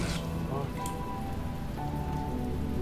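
Steady rain falls across a level of The Talos Principle video game, a constant patter on surfaces alongside low ambient game tones and a few brief chimes, with no voices.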